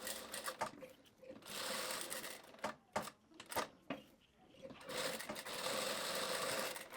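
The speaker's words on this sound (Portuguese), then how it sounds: "vou abaixar e vou continuar costurando, sempre pela pontinha" A sewing machine stitches fabric for a pair of shorts in sustained, buzzing runs, stopping for brief pauses with clicks and handling sounds as the piece is turned, then racing on again, close and fairly loud.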